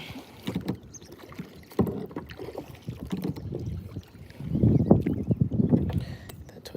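A kayak paddle dips and pulls through the water while fishing, giving soft splashes and swishing strokes, louder toward the end, with some wind noise over the microphone.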